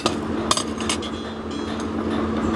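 Blacksmith hammering a heated steel hoe (homi) over a forge, several sharp metallic strikes ringing out over steady workshop hum and background noise.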